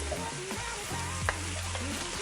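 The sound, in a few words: raw potatoes frying with spices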